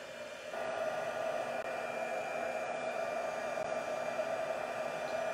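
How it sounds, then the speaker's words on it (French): A heat gun blows hot air to melt embossing powder, a steady even whooshing roar that switches on with a slight jump and holds constant, fairly close, without talking. "On prend le heat gun"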